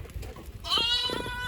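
Young lambs bleat loudly at close range on a homestead, a sharp nasal cry rising at the midpoint and holding over low background rumble.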